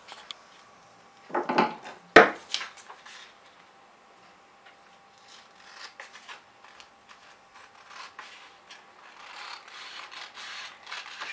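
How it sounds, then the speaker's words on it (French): Scissors cut away surplus fabric while a bag is sewn, a few close, brief snips and rubs early on, followed by faint, sparse handling sounds, with no talk. "Je découpe tout le surplus."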